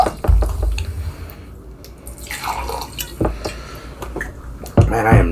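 A drink is poured, with close wet splashes, drips and clinks scattered throughout and a brief rising gurgle of liquid near the end.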